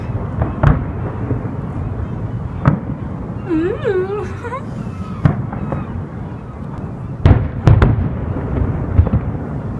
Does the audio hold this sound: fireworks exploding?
yes